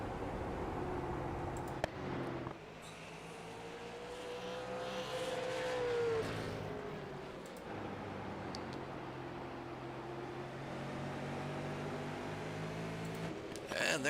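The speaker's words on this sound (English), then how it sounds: "And there they're passing on a slower car." Race cars on a circuit pass a slower car, engines roaring continuously at a moderate distance with rising and falling pitch as they go by, under a steady broadband noise.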